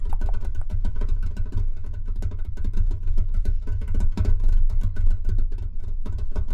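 Fingertips tapping on a Pokémon Charizard Pokébox tin, a quick continuous patter of close, crisp taps like rain on a car roof, heard alone over a low steady hum.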